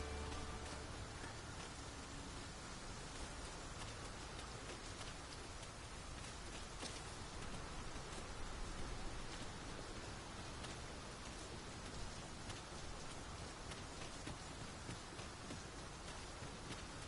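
Heavy rain in the video game Dragon's Dogma II, a dense and constant downpour hiss that stays loud and even throughout.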